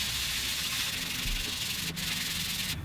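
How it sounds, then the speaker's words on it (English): Steady hand sanding of a spalted maple end wedge on an acoustic guitar body, a continuous dry rasping rub that keeps an even pace for a few seconds, close by and alone. "Now I can sand the end wedge flush with the sides."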